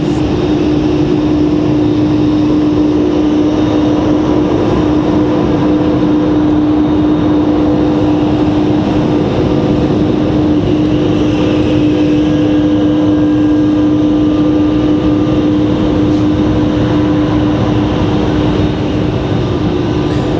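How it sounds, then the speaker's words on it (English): A McDonnell Douglas MD-11 airliner at Raleigh-Durham airport produces a steady, loud jet engine drone with a constant whine, sustained evenly throughout with no voices. "Enjoy the MD-11."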